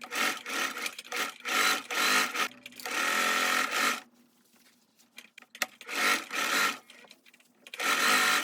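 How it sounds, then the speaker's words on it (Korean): Sewing machine stitching the sleeve seams of a cashmere balmacaan coat, rapid bursts of needle chatter starting and stopping, with one longer steady run and brief pauses of near silence. "소매의 앞판과 뒷판에 점선으로 표시한 이 부분을 박음질을 합니다"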